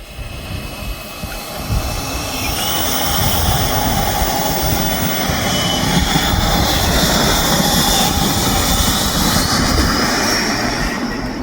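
A giant HSD Jets ME-262 model jet takes off with a loud, steady turbine roar and high whine, sustained and close throughout.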